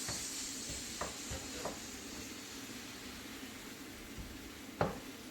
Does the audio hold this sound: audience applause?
no